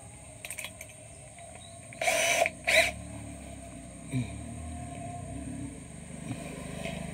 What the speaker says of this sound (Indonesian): Kemudian nanti kita kasih lubang menggunakan mata bor ukuran 10